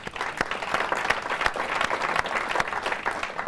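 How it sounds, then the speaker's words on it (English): Conference audience at a 1999 medical talk gives a steady round of applause, dense overlapping claps at moderate distance filling the whole moment with no speech. "I think we should give Chris a round of applause"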